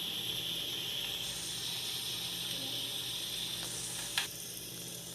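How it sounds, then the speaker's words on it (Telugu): Broad beans and curry leaves fry in oil in a pan, producing a soft, steady sizzling hiss that stays faint throughout, broken by one brief clink of a utensil near the end. "చిక్కుడుకాయ ఆయిల్లో ఫ్రై చేసుకోవాలండి"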